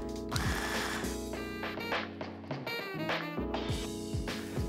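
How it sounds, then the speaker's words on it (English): A food processor pulses to finely chop tuna into a soft consistency, its motor whirring in short bursts with rough choppy grinding and brief dips between pulses, close and moderately loud. "put it in the food processor and pulse it until it is finely chopped into a soft consistency"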